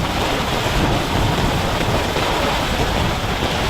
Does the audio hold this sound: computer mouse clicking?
no